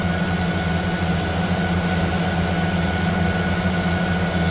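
A Case 2150 tractor idles in Farming Simulator 19, its turbocharged engine a loud, constant low drone with steady whining tones layered on top and no speech.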